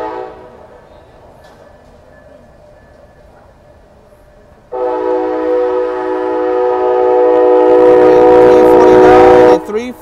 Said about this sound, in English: Amtrak code Starlight number 11 on its way to Los Angeles with an ALC 42 leading